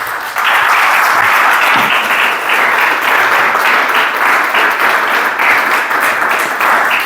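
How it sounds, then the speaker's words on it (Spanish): A church congregation breaks into loud, sustained applause, dense clapping from many hands filling the room from just after the start until the end, with no talk over it. "Un aplauso al Señor,"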